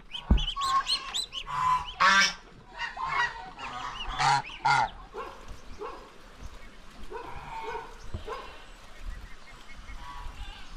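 Farm turkeys call out with a burst of loud, harsh honking gobbles, several in quick succession near the microphone, then fade to quieter scattered calls and background noise.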